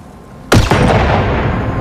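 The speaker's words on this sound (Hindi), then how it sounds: "opening shot" A single loud sniper rifle shot in the Android game Hitman Sniper 2 cracks out after a quiet lead-in, followed by a quick echo and a long rumbling tail that fades slowly.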